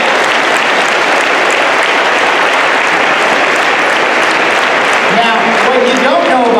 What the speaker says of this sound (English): How about a round of applause for him?